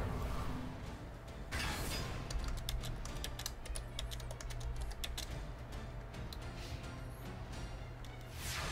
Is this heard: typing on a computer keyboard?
yes